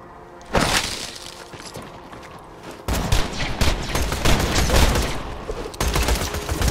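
A wide-area weapon in Borderlands 2 fires, bursts overhead and sprays down, producing loud, chaotic gunfire, crackling shattering blasts and booms that pile up into a dense, sustained barrage, without talk.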